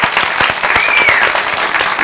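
A crowd at a live salsa performance applauds loudly and continuously, dense clapping filling the whole moment up close.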